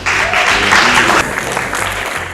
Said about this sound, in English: with a round of applause, can we please be upstanding